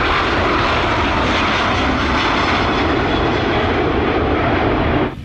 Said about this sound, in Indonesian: ini pesawat luar negeri, Thai Airways teman-teman